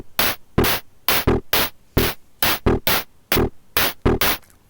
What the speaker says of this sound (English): Let's now fade up the second channel with the white noise.